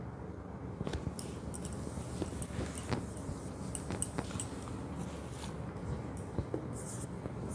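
Units of length are written on a board in a mathematics class, a series of short scratchy taps and strokes near and fairly quiet, with no speech.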